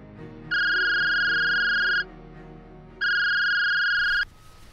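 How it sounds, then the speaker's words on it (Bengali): A telephone rings in two long, steady electronic bursts separated by a pause, loud and close, with no talking. "পরের দিন সকালে ফোন বাজল।"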